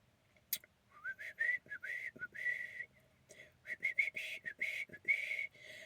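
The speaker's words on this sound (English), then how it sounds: "Whistle." A person whistles a lively tune up close, short melodic phrases with brief pauses between them in a quiet room.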